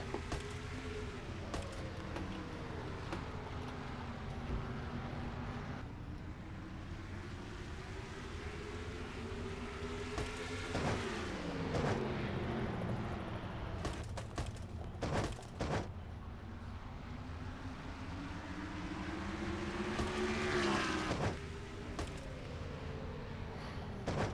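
Stock cars racing at Martinsville in a video game, engine tones rising and falling in repeated sweeps as cars accelerate and brake through the turns, with brief sharp bursts of noise scattered across the pack.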